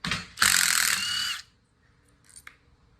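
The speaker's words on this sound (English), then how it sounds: "now just to speed things up, I'm just using my impact" A burst of impact wrench hammering from about 0.4 to 1.4 seconds as it spins bolts free on the bottom end of a BRP 800R E-TEC engine during a teardown, loud and close, then a faint click near the end.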